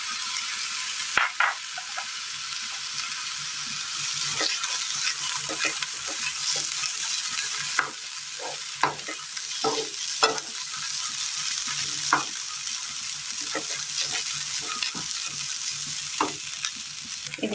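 Cooked horse gram being stir-fried with grated coconut in a pan, a steady close sizzle broken by repeated sharp scrapes and taps of the spoon against the pan.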